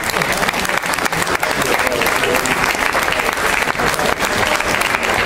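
An audience at a book festival's official inauguration gives dense, sustained applause, loud and continuous, with a faint murmur of voices under the clapping.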